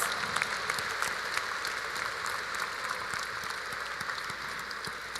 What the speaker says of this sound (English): Let us all give our new lawyers a warm round of applause